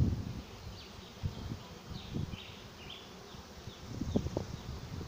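A swarm of bees buzzing around a swarm trap beside a pathway, a steady close hum with individual bees droning louder as they pass near, alone without voices.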